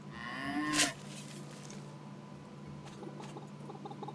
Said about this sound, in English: Here's Betty the cow.